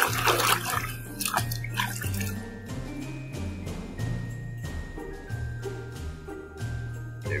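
Water splashes and trickles in a tub as a dirty toy lion is washed, with uneven sloshes and drips up close and a faint tonal hum running underneath.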